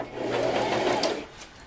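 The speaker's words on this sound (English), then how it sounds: "Now let's sew. Do a back row stitch" A sewing machine runs in one steady, close burst of stitching on a ribbon-trimmed tutu, a continuous mechanical whir that holds for over a second and then eases off, with no talking.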